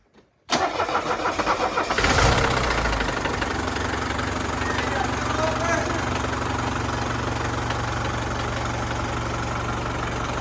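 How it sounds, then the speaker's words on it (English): Old Mercedes diesel engine, unused for fifteen years, cranks briefly and fires, then settles into a steady, loud clattering idle that continues to the end, close by and with some talk alongside. "I just turn the key all the way and it'll fire right off."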